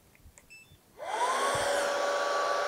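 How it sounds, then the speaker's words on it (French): A Bissell upright vacuum cleaner with a rotating brush switches on partway through, its motor whine rising quickly to a loud, steady roar after a few faint beeps. "un aspirateur, ok, avec la brosse qui tourne"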